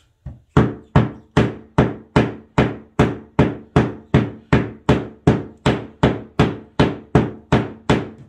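Tapping a Superior 05265 pop-up tub drain part into place in a bathtub drain: about fourteen sharp, evenly spaced knocks in a steady rhythm, loud and close, with no talking.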